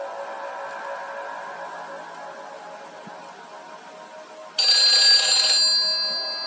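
Phone on the line after dialing in Silent Hill 4: The Room on PS2, a soft hum, then a sudden bright electronic ringing tone starting near the end and holding steadily, with no talking.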